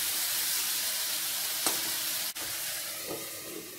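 Chopped tomato frying with masala in oil for a Bengali potol chingri curry, a continuous close hiss and sizzle with one brief clink of a utensil partway through.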